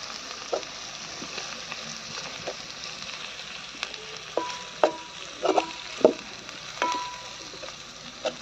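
Ginger-garlic paste frying in a pan for a bitter gourd curry, a soft steady sizzle with scattered crackles and stirring clinks, close and moderately quiet.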